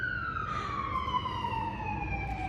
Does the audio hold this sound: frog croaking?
no